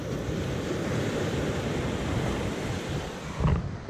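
Ocean surf breaking at a beach, a steady loud wash of waves with wind noise on the microphone, swelling briefly near the end, with no voices.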